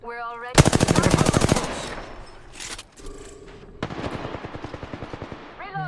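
Automatic weapon fire in the video game Apex Legends, rapid bursts of close, loud shots in two long volleys separated by quieter game effects and tonal interface sounds, with no speech over the shooting.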